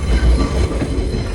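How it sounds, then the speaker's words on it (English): A train pulling into an abandoned station, with loud rumbling rail noise, clattering wheels and a faint squeal of wheels on track, steady and close throughout. "the train pulls into an abandoned station"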